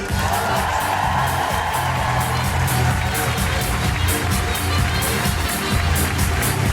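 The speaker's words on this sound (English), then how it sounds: "join me in clapping your hands and making incredible woohooing noises" A live comedy audience claps and whoops at a show in Edinburgh, a steady wash of applause and cheering that stays loud and dense throughout.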